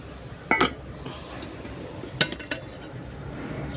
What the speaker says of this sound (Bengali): এই টিফিনটা বার করলাম